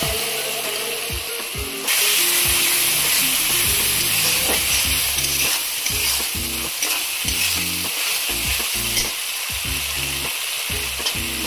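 Spice paste sizzles loudly in a pan while being stirred for a fish curry, a steady hiss of frying with repeated scraping strokes of the spatula throughout, growing fiercer partway in.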